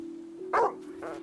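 Two short barks from a dog in GTA V, a loud near one followed by a softer second, over a steady low game hum.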